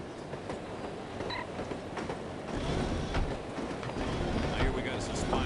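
Train rolling along rails in the video game No One Lives Forever, a steady rumbling ride with faint rhythmic clatter, slightly louder in the second half, under brief voices.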